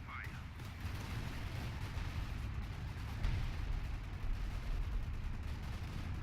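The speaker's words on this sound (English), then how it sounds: "Artillery getting called down on the Brits as well here from the commander here. He's using the coordinated barrage." A coordinated artillery barrage in a World War II strategy game set in the Battle for Caen makes a dense, continuous rumble of booming impacts and gunfire, with a brief rising whistle near the start.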